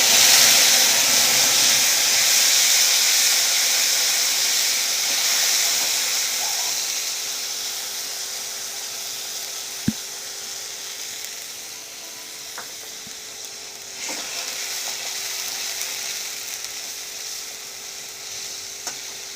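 Ground spice paste hits hot oil in a pan for a matar paneer dish, a loud broad sizzle right away that slowly settles into a softer hiss, with a few faint clicks of a utensil and no talk.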